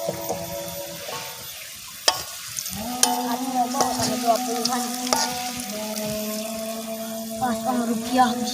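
Fish frying in a pan during an outdoor cooking session, a steady sizzle with intermittent clatter and stirring, people talking over it now and then.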